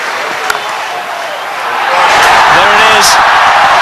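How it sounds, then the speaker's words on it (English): A cricket crowd roaring as Herschelle Gibbs reaches his hundred, a broad sustained swell of cheering and applause that rises and holds loud, with commentary talking over it. "if he does go to 100, this crowd will erupt"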